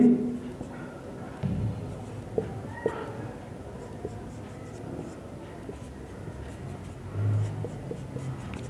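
Marker or chalk scratches across a classroom board during an organic chemistry lesson, light intermittent strokes and taps sitting under a low room hum with faint background noise.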